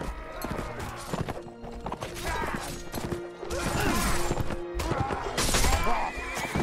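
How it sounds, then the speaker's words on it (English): Galloping hoofbeats clatter in rapid rhythm amid horse whinnies and crashing battle noise in the video game Mount & Blade, loud and busy with layered effects. "and Bunduk got on a horse."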